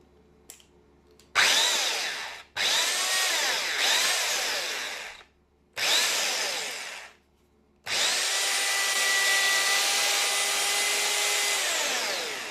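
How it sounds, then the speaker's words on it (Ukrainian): A Stark HM-1350 PRO drill mixer, just repaired, is test-run in several short bursts, its motor whining up and spinning down between them, then holding a long steady high-pitched run, loud and close with no talk. "чи буде працювати наш міксер"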